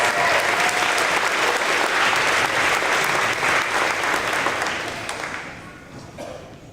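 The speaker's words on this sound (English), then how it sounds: "Let's give them another round of applause." A school crowd at a 5th grade promotion ceremony gives a sustained round of applause, a thick steady roar of claps and faint voices that tapers off over the last seconds.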